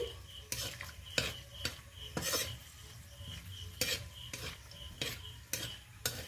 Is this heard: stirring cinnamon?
yes